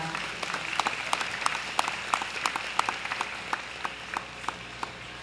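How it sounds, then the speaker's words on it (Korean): Steady applause from a crowd at a teachers' memorial rally, with sharper individual claps standing out above a soft, continuous patter of hands. "다시 한번 격려의 박수 부탁드립니다."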